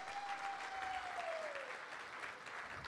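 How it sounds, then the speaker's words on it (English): An office audience at a safety kickoff meeting gives a steady round of applause, fairly soft and distant, with a faint whistle-like tone gliding downward at the start. "So big round of applause for our executives that pay for all this."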